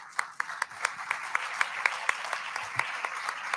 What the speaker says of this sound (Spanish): Recibimos a todos con un fuerte aplauso.